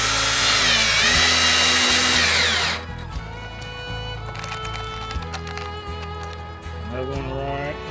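A power drill drives screws into wood while building a chicken laying box, a high whining burst followed by lower, stop-start motor pulses and clicks close at hand.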